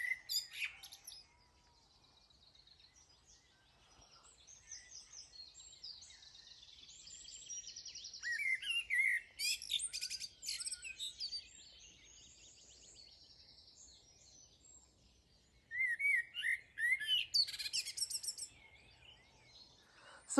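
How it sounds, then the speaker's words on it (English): A blackbird sings in a cottage garden in bursts of fluting, chirping phrases, faint and somewhat distant, with quiet pauses between the song bouts. "there's the blackbird singing"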